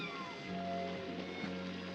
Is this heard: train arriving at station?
no